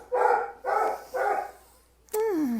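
A dog gives three loud, evenly spaced barks close by, then a pause and a higher whining yelp, heard indoors in a kitchen while peppers are being pickled.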